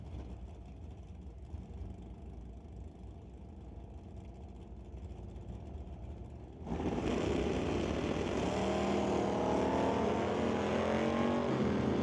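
Drag racing Monte Carlo and Bel Air cars on an eighth-mile strip: a steady engine rumble, then a sudden jump to a loud, sustained roar as they launch and keep revving hard.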